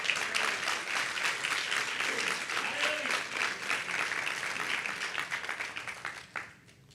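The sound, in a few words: congregation applauding in church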